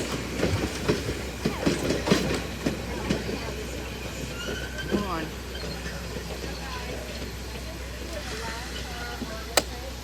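Passenger train at the Strasburg Railroad rolling along the rails with a steady clickety-clack of wheels, a low rumble and the occasional squeal, heard from inside the carriage while people talk and cheer.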